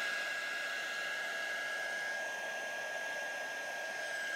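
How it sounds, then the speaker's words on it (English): A heat gun blows a steady, loud hiss of hot air over shrink plastic jewelry, continuous and unbroken throughout, with a faint high whine riding on the airflow and no voices. "Notice how I move my heat gun around to keep it evenly warm"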